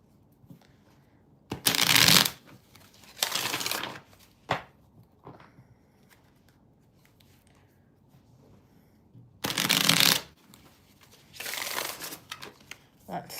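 Tarot cards are shuffled in four loud, crisp bursts of riffling and rustling, separated by quieter pauses with light handling noises.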